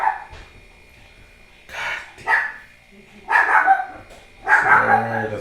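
A dog barks in several separate loud bursts, a few seconds apart, with quieter whining between them in an indoor podcast setting.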